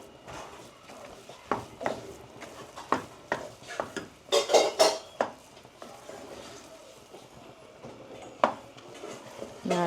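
A spoon stirs a sweet semolina mixture with milk in a pot, making repeated scraping and clinking strokes against the metal, close and moderately loud, with a brief busier burst in the middle and no talking.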